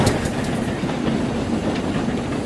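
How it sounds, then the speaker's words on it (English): A heavy goods train rumbles past close by, its wheels clattering rhythmically over the rails in a steady, loud roar. "soon Murdoch shrieked through with a heavy goods train"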